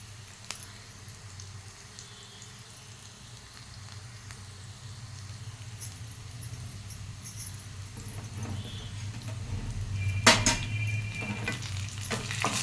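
Vegetables fry and get stirred in a home pan, a soft steady sizzle that builds gradually, with occasional utensil scrapes and a sharper clatter near the end.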